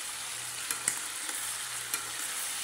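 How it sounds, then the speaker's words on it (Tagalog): Liver sautés in a pan with a steady, even sizzling hiss, joined by a few soft clicks from stirring, close by and without voices. "Gisa muna tayo ng atay."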